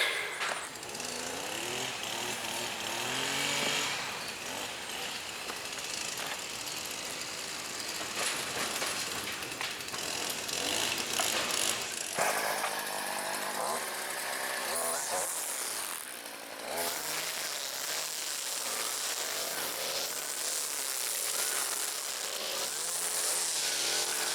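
Several lawn mowers cut a residential lawn, their engines roaring loud and continuous with shifting pitch as they pass near, while a voice talks faintly underneath.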